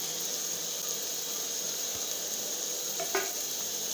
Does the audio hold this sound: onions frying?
yes